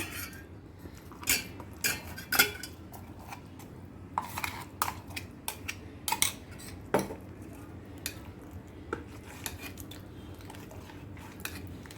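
A spoon clinks and scrapes against a pot as ground paste is stirred into cooked yellow pumpkin for a kulambu with no onion or garlic, giving irregular close metallic taps over a soft background hum.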